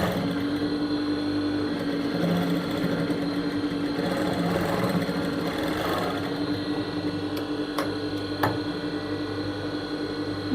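A sewing machine runs steadily while stitching a blouse, its continuous motor whir and needle rattle close and even throughout, with a few sharp clicks near the end.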